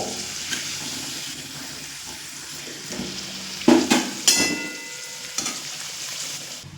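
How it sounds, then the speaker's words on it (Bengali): Boiled yam pieces fry in hot oil left from frying potatoes, with a soft, continuous sizzle broken by a few sharper spits and clatters midway, heard close and fairly quiet. "এই একই তেলের মধ্যে দিয়ে দেব সিদ্ধ করে রাখা ওলগুলো"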